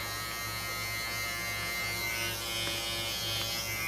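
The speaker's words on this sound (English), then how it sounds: "I wanted to show you guys a full breakdown of shaving my head" Electric clippers buzzing steadily while shaving a head for a buzz cut, a close, continuous motor drone with faint changes in pitch as the blades move, with no voices.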